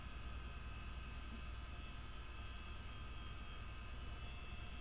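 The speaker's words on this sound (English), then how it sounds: "I just love the sound, the Chanouk sound of the double engines." A CH-47D Chinook's twin engines hum continuously inside a flight simulator game, a smooth, even turbine roar with high whining tones, uniform and uninterrupted, with no voices.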